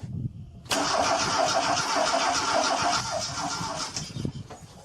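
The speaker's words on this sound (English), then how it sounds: "And we'll crank the starter a few times." A car engine cranks on its starter during a compression test, a steady, loud churning that runs for about three seconds and then trails off, with no talk.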